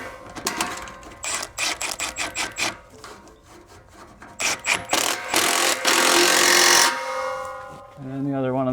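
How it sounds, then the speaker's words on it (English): Clamp being fitted and tightened on a Ford Mustang capless fuel filler, heard close up as rhythmic rubbing and rasping bursts in short repeated strokes, followed by a longer sustained scraping stretch, with no talk. "I'm going to fit this clamp in place and tighten it up."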